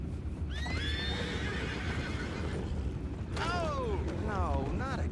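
In Red Dead Redemption 2, horses whinny in two drawn-out neighs over a steady bed of clopping hooves and ambient game noise.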